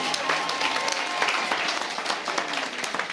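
An audience at a recognition seminar applauds, producing dense, steady clapping throughout without any pause.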